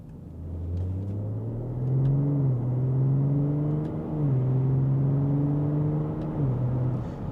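A tuned BMW X5 45e with an upgraded exhaust revs at half throttle, a smooth, steady engine drone rising and dipping through gear-like steps, close and fairly loud, with no talking.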